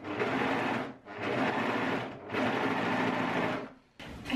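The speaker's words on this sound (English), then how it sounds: "and sew the two sides together." A sewing machine stitching the side seams of a folded linen skirt tube, running in three long, steady whirring bursts separated by brief pauses, close and clear with no talk.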